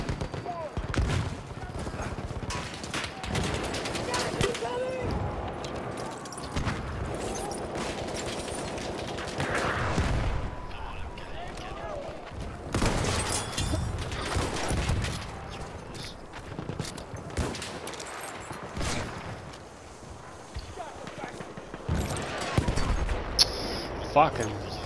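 Mortar blasts and crackling gunfire echo across the Argonne Forest map in a World War I shooter game, with repeated thuds, bursts of shots and footsteps over about twenty-five seconds, some near and some distant.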